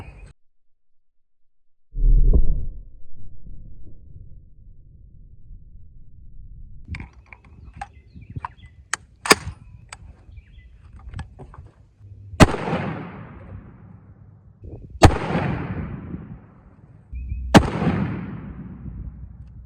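A rifle chambered in .358 Winchester fires handloaded rounds outdoors. A muffled thump comes first, then three sharp, loud cracks a few seconds apart, each trailing off in a brief echo, with faint handling clicks between them.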